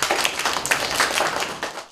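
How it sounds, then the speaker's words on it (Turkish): Dense applause from primary school pupils and guests at a report-card ceremony, a steady crowd of hands clapping close and loud throughout without a break. "Alkışlıyoruz."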